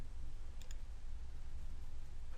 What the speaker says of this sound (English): I also have the option to save the job by clicking on the save icon.